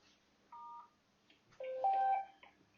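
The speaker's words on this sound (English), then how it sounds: "if I press star, we'll hear a little tone" Short phone keypad tones: a brief star-key DTMF beep, then a longer two-tone chirp from a push-to-talk microcontroller phone setup, clean and close with no talking over it.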